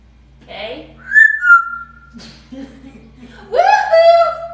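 An African grey parrot gives several sharp, rising and falling whistles in bursts, close and loud, with soft chuckle-like sounds between them.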